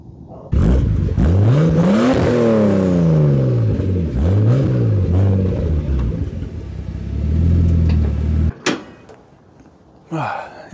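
Nissan Gloria Y32 car engine revving and pulling through gears while driving, loud and close, with repeated rising and falling engine tones for about eight seconds, then a thump and brief quieter sounds at the end.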